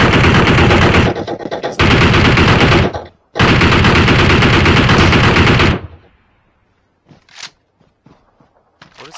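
Loud, close automatic gunfire from the video game PUBG Mobile comes in two long sustained bursts, then gives way to a few scattered distant shots.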